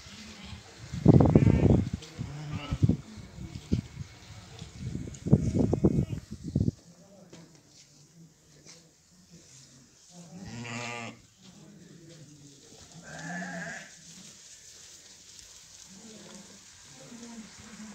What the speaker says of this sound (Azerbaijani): Koyunlar da Ağdam rayonunun quzanlısındadır.